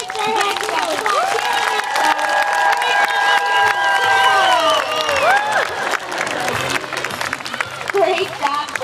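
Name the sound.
audience applause and cheering for sea lion Java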